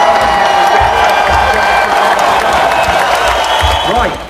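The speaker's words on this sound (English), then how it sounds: "Let's give him a massive Newton round of applause" A school achievers assembly breaks into a big round of applause, loud, close crowd clapping mixed with cheers and whoops that carries on steadily before fading slightly at the end.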